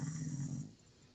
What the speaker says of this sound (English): I hear snoring.